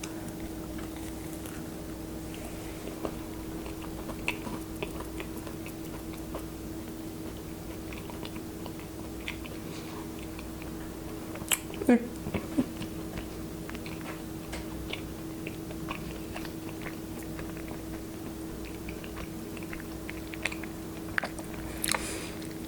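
Quiet, close-up chewing of a slice of nutbread made with cayenne and pecan, with soft irregular mouth sounds and a few small crunchy bites over a low, steady background hum.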